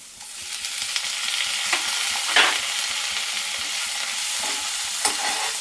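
Tomatoes frying with onions in a pan while being stirred, a steady close sizzle under repeated soft scraping strokes and occasional clinks, with no talking.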